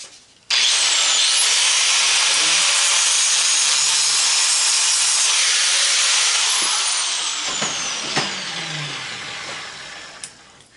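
A brass fitting on a propane grill gas line is sawed through in one long, loud, steady stretch of rasping strokes that fade slightly toward the end, with a few sharp knocks near the finish and no talking.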